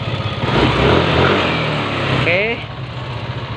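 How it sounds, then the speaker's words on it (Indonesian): A Yamaha Aerox scooter's engine, recently repaired for a stalling fault, runs at a steady idle close by, its low rumble continuing throughout while someone briefly speaks over it. "Coba dihidupin mesinnya mas. Starter."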